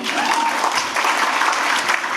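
Steady applause from a presentation audience, dense continuous clapping at an even, fairly loud level throughout with no pauses.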